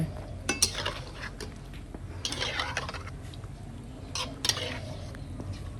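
Blanched Thai pork sausage is scooped from a pot into a colander, giving a run of close metallic clinks and scrapes of a utensil against cookware over a low background hum.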